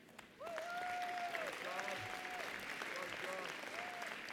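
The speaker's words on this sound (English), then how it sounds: "Please give a round of applause to these graduates" A large crowd at a university commencement ceremony claps steadily for graduates, starting abruptly and continuing as sustained applause while a voice speaks over it.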